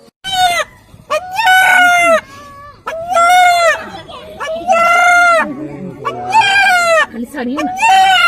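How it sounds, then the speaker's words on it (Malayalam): A chicken cries out loudly in a series of long, harmonic, strained calls, each lasting about a second with short gaps between them, held up close and loud as it is picked up for slaughter. "ഉറക്കെ അല്ലാഹു എന്ന് വിളിച്ചു കരയുന്ന കോഴിയുടെ വീഡിയോ ആണിത്"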